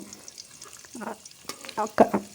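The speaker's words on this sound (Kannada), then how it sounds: "ಚಕ್ಕೆ ಮೊಗ್ಗು, ಕರಿಬೇವು ಎಲ್ಲ ಹಾಕ್ಕೊಂಡು ಮಾಡ್ಕೋತಾ ಇದ್ದೀನಿ" Cinnamon, cloves and curry leaves sizzle in hot oil for a tempering, a close crackling fry with small pops that grows louder toward the end.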